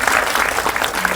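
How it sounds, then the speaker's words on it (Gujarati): Audience applause at an Ahmedabad premiere of the Gujarati horror film Jhamkudi, honouring the film's hero: a dense, steady burst of many hands clapping close by, continuous throughout the short moment with no talk. "એને માટે ખાસ તાળીઓ."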